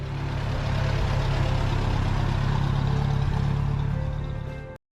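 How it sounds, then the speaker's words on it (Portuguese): A 1938 Minneapolis Moline UDLX Comfort Tractor engine runs steadily with a deep, low idling drone, loud and continuous throughout before cutting off abruptly at the very end. "Minneapolis Moline UDLX Comfort Tractor, 1938, potência com estilo."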